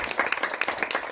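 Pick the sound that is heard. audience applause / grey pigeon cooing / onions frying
audience applause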